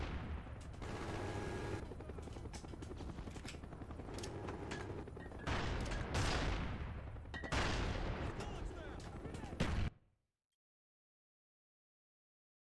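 Rapid gunfire from Call of Duty Black Ops on PC, a dense run of automatic shots with louder bursts near the end, stopping abruptly into silence.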